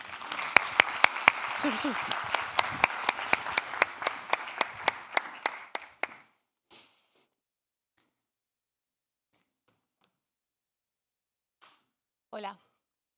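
An audience at a cybersecurity conference applauds a speaker with dense clapping for about six seconds, then the applause stops abruptly, leaving near silence with a brief voice near the end.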